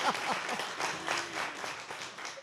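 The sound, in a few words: audience applause for the editor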